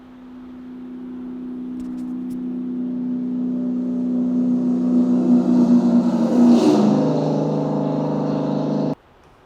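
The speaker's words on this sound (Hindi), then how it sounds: "जब गाड़ी हमें अप्रोच करती है तो एक अलग साउंड सुनाई देता है" A car approaches on a road, its engine hum swelling steadily louder, then rushing past close by with a falling pitch before cutting off abruptly, with no voices.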